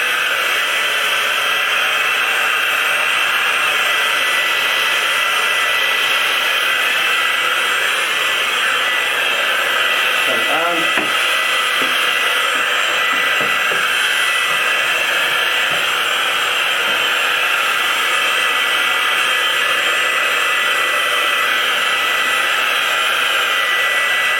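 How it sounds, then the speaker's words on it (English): A heat gun blowing steadily on the covering of a Cirrus Moth model aircraft's top wing to shrink out creases; a loud, constant close-up hot-air roar throughout, with faint handling noises in the middle. "back to the heat gun. Big creases here, so we'll pull the creases out easy."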